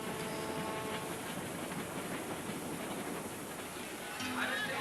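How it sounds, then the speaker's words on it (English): A train climbing a mountain railway, a steady rumbling run of wheels on rails with faint rhythmic clacking throughout, fairly loud and close, rising slightly near the end. "the train has climbed 300 vertical feet up the side of the mountain."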